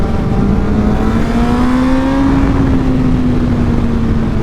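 A Yamaha FZ1 or R6 sport motorcycle revving and accelerating close by, its engine tone climbing then easing off in one smooth loud pull, with no talk.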